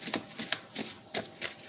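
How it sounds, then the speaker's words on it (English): Tarot cards are shuffled close by in a live reading, with five or six quick papery riffling bursts in an uneven rhythm and no voices. "One more shuffle."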